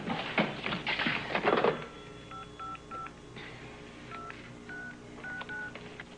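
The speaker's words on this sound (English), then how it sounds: "Operator, what number are you dialing?" Touch-tone telephone dialing: a string of distinct beeping DTMF tones pressed one after another at an uneven pace, preceded by a short burst of handling noise, fairly quiet and close.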